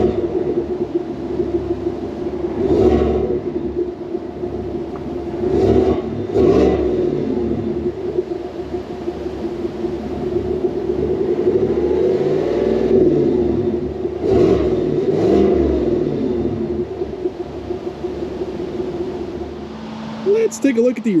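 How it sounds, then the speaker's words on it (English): A 2025 Chevrolet Tahoe Premier engine recorded at the tailpipes, a steady low exhaust rumble with several short revs swelling and falling at intervals, close and fairly loud. "let's take a listen to how this engine sounds at the tailpipes."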